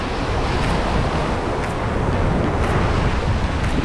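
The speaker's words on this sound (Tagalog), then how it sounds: "malakas na masyado yung mga alon" Strong surf pounds a rocky Palawan shoreline under steady gusting wind, a continuous loud roar of breaking waves with no talk, close and enveloping throughout.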